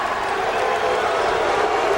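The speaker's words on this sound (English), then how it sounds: "Crowd getting on Chelo Diaz, who pumps his chest" A large crowd at a boxing arena in Houston jeers a fighter during Rocky Juarez vs Antonio Diaz. The roar is a steady, loud, unbroken wash of many voices.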